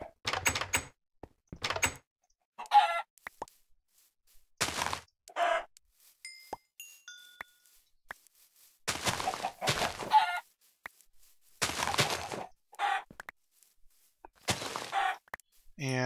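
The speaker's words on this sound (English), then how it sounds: "And there's still chickens everywhere." Minecraft chickens clucking in bursts, a string of short clucks and squawks with blocky game thuds in between, close and clear, while a person talks at times.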